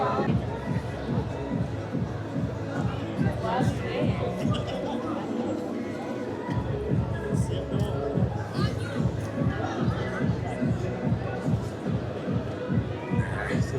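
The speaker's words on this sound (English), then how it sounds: "The crowd getting smaller and smaller" A thinning protest crowd in a city street chatters in a steady, murmuring babble of many voices, with shuffling movement and nearby talk throughout.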